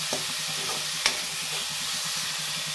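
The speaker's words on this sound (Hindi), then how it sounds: "पहले हम प्याज को भून लेते हैं, तो इसको हम अच्छे से चला देते हैं।" Chopped onions sizzle steadily in a pan over a high gas flame for a dhaba-style matar paneer, with a few scraping stirs and knocks of the spoon.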